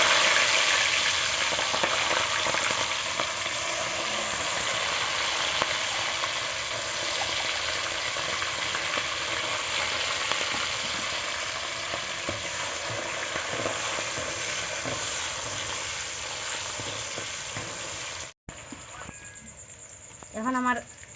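Eggs frying in white oil in a pan, a steady close sizzle and crackle running throughout with some stirring, then a brief gap and a quieter, bubbling stretch at the end.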